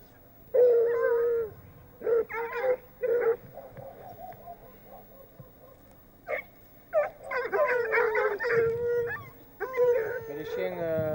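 Pack of hunting hounds giving voice while tracking a hare: repeated bursts of baying, yelping and howling, some close and some farther off, with short quiet gaps between the outbursts.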